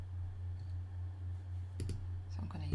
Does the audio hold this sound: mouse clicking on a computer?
yes